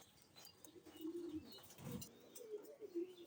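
Silver high-flying pigeons, healthy fancy birds kept at home, give soft low cooing calls that come and go, with a fuller coo in the middle and light chirps, close by and moderately loud, with no talking.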